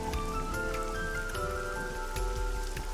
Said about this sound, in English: This rain is depressing.